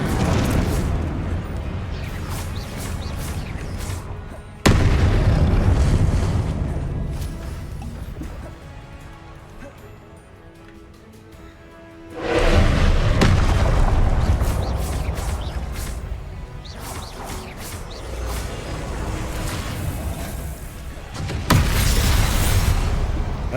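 The Confringo explosion spell fires in the video game Hogwarts Legacy, making loud, sustained blasting bursts at about 5, 12 and 21 seconds, with a quieter lull between the first two.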